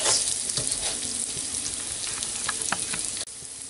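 Risotto rice sizzles steadily in a pan for a mushroom risotto, a close, dense crackling hiss with faint stirring ticks and a brief drop near the end.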